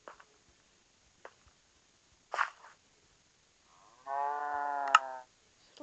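Cows in a Minecraft game moo once in a long, clear, tonal call, close and alone, after a few quiet clicks and soft footsteps.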